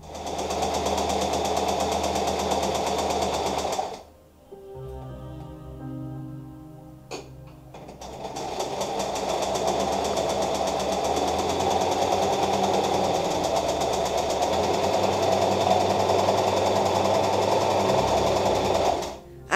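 A sewing machine stitches dress fabric and lining in long, loud, steady runs close by. It pauses briefly near the start, with low handling sounds during the gap, then resumes and keeps going without talk.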